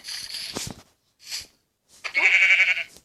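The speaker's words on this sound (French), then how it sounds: "Vous avez vu les deux moutons." Sheep in a blocky Minecraft-style survival game on a Paladium server bleat in short separate calls: two brief cries, then a longer, louder bleat, with quiet gaps between them and no talking.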